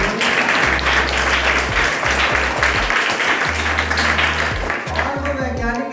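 An audience claps for scientists at a space science lab event in Siddharthnagar, a dense, sustained round of applause that fills the room from start to finish.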